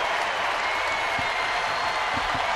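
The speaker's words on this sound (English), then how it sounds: "Brad Penny will definitely benefit from this ovation" A sellout baseball stadium crowd stands and applauds in a loud, dense ovation that stays steady throughout the clip.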